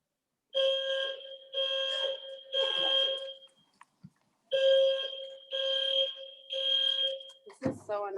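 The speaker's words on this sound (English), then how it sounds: "And then we get a fire alarm." A fire alarm goes off in repeated loud, shrill electronic beeps, two groups of three long tones separated by a pause, with a brief sound of someone moving at the end.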